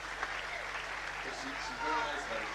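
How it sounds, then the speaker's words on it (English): Applause from the crowd at a youth football match between Sligo Leitrim and Leeds United rises faintly and distantly, a soft, scattered clapping beneath a commentator's voice. "applause coming from the crowd for the move"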